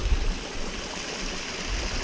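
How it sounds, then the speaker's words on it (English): A small waterfall along a hiking trail near Crown King, Arizona rushes steadily, a continuous broadband wash of flowing water heard fairly near, with no talking. "Oh, look at that waterfall."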